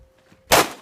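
A pistol fired at an action pistol competition course gives one sharp, loud, close crack that rings off after near silence.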